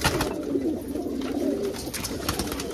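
Border pigeons coo repeatedly in soft, rolling calls, close and clear over a faint background hum, with no talking.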